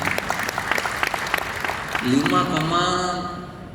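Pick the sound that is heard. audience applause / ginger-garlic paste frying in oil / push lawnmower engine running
audience applause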